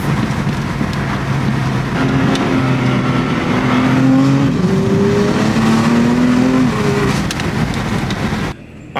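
Bagged BMW F80 M3 driving through turns, the engine droning loudly and steadily from inside the car with pitch shifting up and down as it eases between gears and corners.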